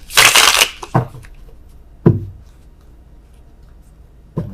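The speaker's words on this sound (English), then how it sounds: "Oh, worst shuffling in the world." Tarot cards are shuffled, one dense riffling burst followed by a few softer taps and card slaps, close and alone.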